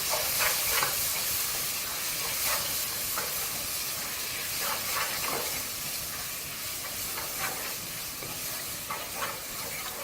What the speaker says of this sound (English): this should actually just continue to fry as a dry mixture